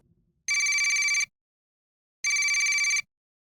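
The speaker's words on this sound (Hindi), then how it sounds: "मेरे दुकान वाले मोबाइल पर किडनैपर का कॉल आया" A mobile phone in a shop rings twice for an incoming call, each bright electronic burst lasting under a second and separated by silence, loud and close.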